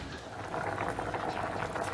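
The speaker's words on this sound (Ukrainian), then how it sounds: "ж не чуєте, що кипить" A steady bubbling, burbling hiss of water boiling in a pot, continuous and fairly close, with no voices.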